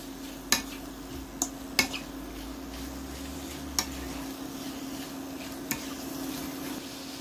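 Marinated diced veal browns in a pan, giving a soft, steady sizzle with a low hum underneath, broken by a few distinct utensil knocks and scrapes against the pan, close by with no voices.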